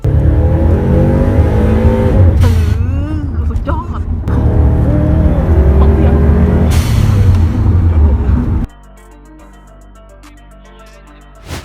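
A four-wheel-drive Subaru Impreza revs and accelerates loudly, its engine pitch climbing and falling across several gear changes under a talking voice, then cuts off to a quiet background.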